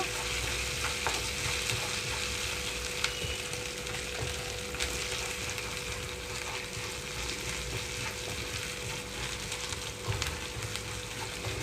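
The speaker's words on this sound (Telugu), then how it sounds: "ఇక్కడ ఉల్లిపాయలన్నీ వేగిపోయిన తర్వాత ముక్కలు మొత్తం ఇందులోకి వేస్తున్నాను" Onions and garlic fry in a pan for a tindora (ivy gourd) fry, giving a dense, continuous sizzle at moderate volume with occasional faint scrapes and clicks. Nobody speaks over it.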